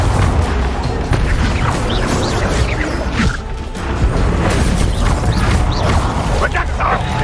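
Confringo blasting spell cast in the Hogwarts Legacy video game, loud continuous bursts and crashing booms in a dense busy battle mix with constant whooshes and impacts throughout.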